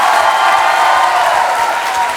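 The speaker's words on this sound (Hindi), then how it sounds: "तो ये तालियां बजती रहनी चाहिए।" A studio audience applauds loudly and steadily at a televised court-style talk show, a dense wash of many hands clapping with light cheering mixed in throughout.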